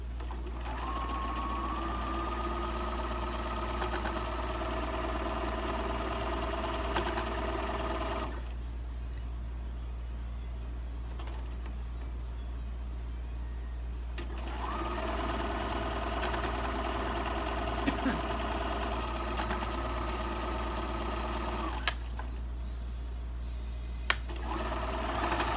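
A sewing machine stitches fabric strips in two long steady runs of fast whirring, each lasting several seconds and separated by a quieter pause, close and prominent over a low background hum.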